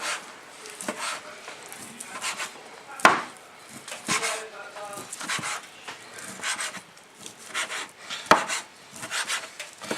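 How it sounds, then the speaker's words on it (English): A knife chops cooked chicken finely on a board for cream of chicken soup, giving irregular close taps and a few sharp thuds over about ten seconds, with light background noise. "So I'm chopping it about that sort of fine"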